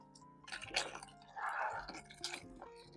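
Separated curds and whey poured from a pot into a cheesecloth strainer for homemade mozzarella, giving close, soft wet splashing and dripping with squishy bursts throughout.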